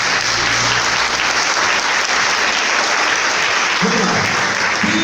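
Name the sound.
prayer group applauding the word of God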